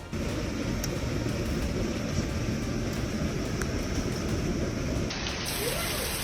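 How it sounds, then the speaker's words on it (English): Heavy rain mixed with hail roars steadily in a dense, continuous wash over backyard areas in central North Carolina, with occasional sharper impacts of hail rattling on surfaces nearby. "Heavy rain mixed with hail pours down on backyard areas in central North Carolina"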